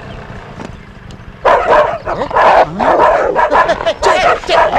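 Several dogs barking in loud, close bursts that come rapidly one after another, with a voice speaking briefly amid the barking in a comedy film scene.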